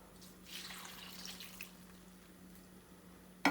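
Water poured into a pan of vegetable curry for Kerala aviyal, a faint, brief splashing pour near the start that trails off into quiet, close and soft.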